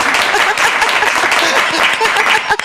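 Loud, dense audience applause fills the whole stretch, a continuous wash of clapping with a few scattered voices and a brief chuckle near the end.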